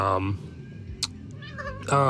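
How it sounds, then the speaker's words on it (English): A house cat lets out a brief meow between stretches of podcast talk, heard faintly in a quiet gap under the room tone. "And my cat just jumped out of nowhere."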